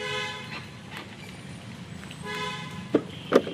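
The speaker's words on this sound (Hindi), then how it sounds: "ये हॉर्न" Horn of a Bajaj Chetak electric scooter, giving two short toots near the end, the second slightly longer, after a quiet stretch of faint tonal background.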